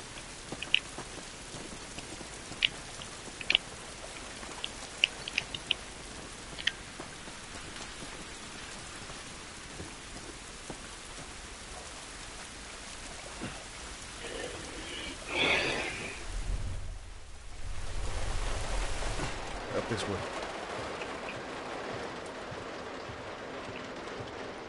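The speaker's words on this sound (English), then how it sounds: "This rain ain't gonna do us any good." Steady rain pours outside in The Last of Us, a constant wash of drops on surfaces with a few sharper ticks early on and a brief heavier gust near the middle, with no voices.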